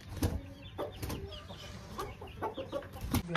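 Chickens cluck in short, scattered bursts against a steady low background murmur, several birds calling close by; Aseel roosters let out in the open.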